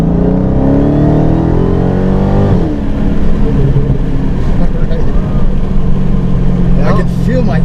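A powerful Dodge Hellcat engine revs hard and climbs steadily in pitch as it accelerates, loud and close, with a shift partway through and a voice briefly heard.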